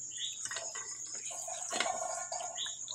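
Water trickles out of the purge unit of an Epson L3210 inkjet printer, faint irregular drips and splashes over a steady high electrical whine.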